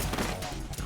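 AK rifle fire in the Metal Gear Solid 2 video game shooting out room lights, a short loud burst of rapid shots packed into under a second.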